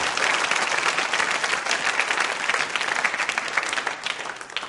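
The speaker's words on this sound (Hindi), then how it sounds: "तालियां बजाइए उनके सम्मान में जोरदार तरीके से आप।" Loud, continuous applause from a school audience at a quiz show, a dense wash of many hands clapping that holds steady throughout.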